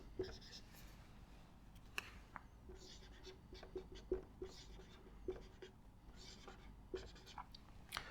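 Marker or chalk writing on a board during a transfer-functions lecture: faint, close scratchy strokes and small taps in an uneven rhythm, continuing steadily with low room hiss and no talking.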